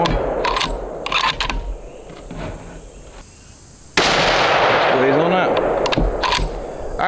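.30-06 rifle firing 178gr Hornady Precision Hunter ammunition, with one loud sharp shot and a ringing tail outdoors at sunrise, plus fainter clicks and handling sounds before it.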